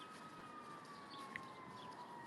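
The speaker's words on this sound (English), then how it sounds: "Got an ambulance down the way" A faint ambulance siren wails somewhere far off down the road, a thin steady tone drifting slightly in pitch beneath a soft outdoor background hiss.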